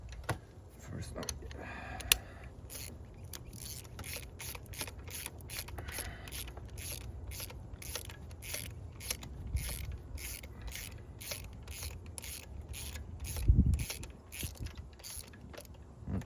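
A ratchet wrench tightening a spark plug on a 2011-2022 Jeep Grand Cherokee 3.6L engine, a rapid run of close clicking ratchet strokes, with some low background noise.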